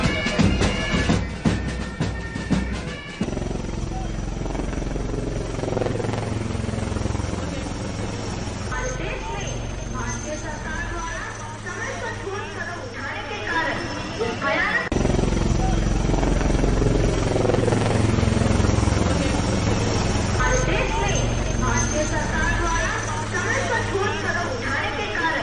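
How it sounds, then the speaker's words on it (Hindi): An Indian Air Force helicopter flies low over a hospital in a flypast, its loud rotor thrum and engine roar sustained throughout, mixed with voices and crowd noise. "हॉस्पिटल के ऊपर से एयरफोर्स का हेलीकॉप्टर फ्लाई पास्ट करते हुए यहां से गुजरा है।"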